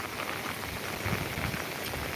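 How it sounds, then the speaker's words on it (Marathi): Heavy monsoon rain pours down at Koyna, a dense, even hiss of drops drumming on surfaces, steady and close throughout with no voices. "अगदी मुसळधार पाऊस जसा असतो त्या प्रमाणात इथे आता हा पाऊस चालू आहे"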